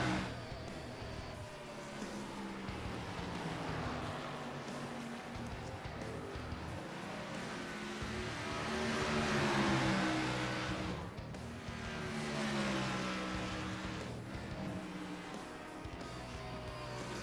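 Race cars in a sim racing video game roar around the Richmond oval, engines revving and swelling as the pack passes, with tire noise mixed in and no speech.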